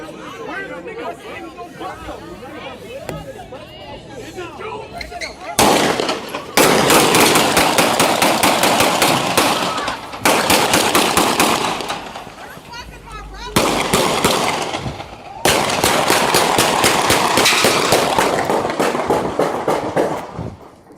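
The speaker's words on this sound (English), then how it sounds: "There were over 45 rounds fired on that incident alone." Many gunshots from a recorded shooting incident, with over 45 rounds fired, heard as long dense bursts of rapid cracks in several volleys after a stretch of crowd chatter.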